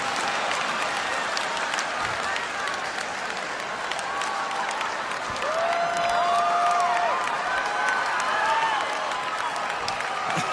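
A comedy audience applauding and cheering in a steady, sustained wash of clapping with a few whoops rising over it.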